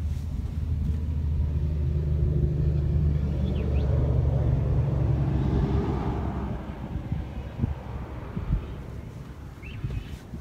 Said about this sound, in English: I might just wait for that truck to go